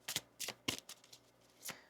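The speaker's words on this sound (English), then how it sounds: "One more shuffle here." A deck of tarot cards shuffled by hand in quick, crisp riffling bursts, close and fairly quiet, separated by brief pauses.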